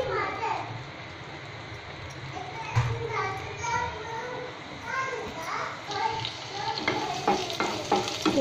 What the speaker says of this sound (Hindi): तेल गरम हो जाए फिर हम डालेंगे अदरक लहसुन